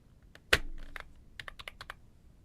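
Computer keyboard keys clicking during cleaning, with one loud sharp clack followed by a quick run of lighter taps, close and crisp in a quiet room.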